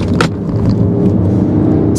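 A Mercedes ML 63 AMG carries hard through curves, its engine a steady, loud, close rumble with road roar that holds for the whole short stretch.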